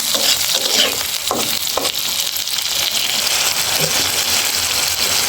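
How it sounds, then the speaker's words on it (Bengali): Spiced tomato and potato stirred and frying in a pan for pangasius fish curry, with a steady close sizzle and occasional scraping stirs, no talk. "এটা সব কিছু মারবো, ভালো করে কষাবো"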